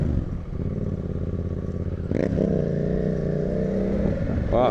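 A motorcycle engine on a ride through a Brazilian favela, droning steadily and then revving up sharply about halfway through, loud and close with wind rush and no talking.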